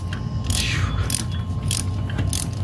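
A ratchet wrench tightens coil pack bolts on a 2011 Ford Fiesta in close, loud bursts of rapid clicking, four strokes in a steady rhythm over a constant low engine-bay hum.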